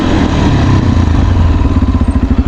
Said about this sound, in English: We are doing 40 kph front brake.